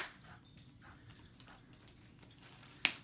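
Excited dog playing with a toy, giving soft whimpers and small yips under a quiet room background, ending with a brief sharp high noise.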